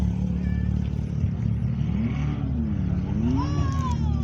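Porsche 911 GT3 engine revving at a car meet outside the Dovecote Inn, Laxton, with rising and falling engine pitch swells over a steady loud rumble of nearby traffic and crowd noise.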